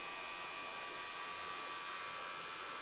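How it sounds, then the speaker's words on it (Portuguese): Electric hair clipper used without a guard on an undercut haircut, producing a steady, fairly quiet buzzing hum with a constant high hiss and no pauses or speech. "vou pegar a minha máquina sem pente mesmo"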